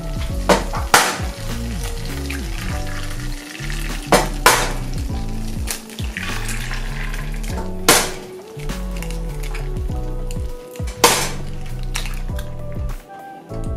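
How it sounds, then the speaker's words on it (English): Eggs fry in an oiled pan as pesto eggs are made, a steady crackling sizzle with wet squishing and scraping stirs breaking through every few seconds, close and fairly loud. "I'm going to go ahead and crack in my eggs."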